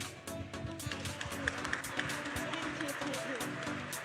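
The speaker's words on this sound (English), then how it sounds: "can we also have an applause for the organizer, CraftHack, for creating such amazing event for everyone here" Audience applause for the organizers at the CraftHack 2023 closing ceremony, a steady wash of clapping with cheers and music or voices underneath throughout.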